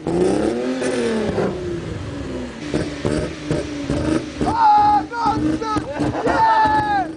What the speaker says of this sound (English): I found a video of the flame kit in action.